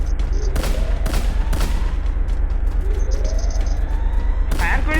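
Video game gunfire, several sharp loud shots in bursts over steady background game noise, with brief voices in the mix.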